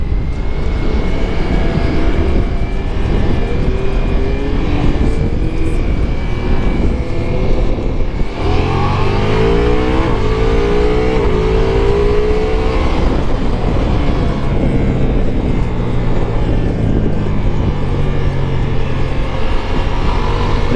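A 2021 Ducati Multistrada V4S motorcycle engine roars loudly on a race track, revving and accelerating with rising pitch and constant wind rush throughout.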